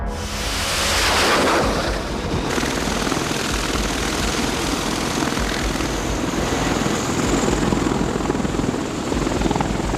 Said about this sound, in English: a specialist submarine hunting helicopter was scrambled